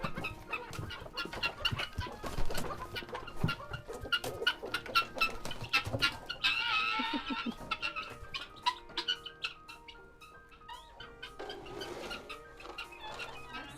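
Geese and chickens on a small farm are let out at feeding time, a busy jumble of clucks, honks and rustling footsteps close by with no talk.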